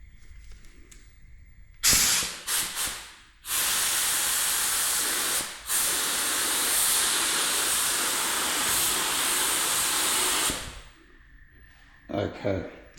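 Spray gun hissing in long steady bursts as primer goes onto a Ford Falcon XA fender, first a few short test blips, then a sustained loud spray of about seven seconds broken by one brief pause, with quiet room sound between.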